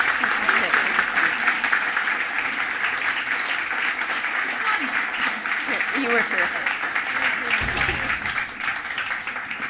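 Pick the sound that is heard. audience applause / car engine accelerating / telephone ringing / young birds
audience applause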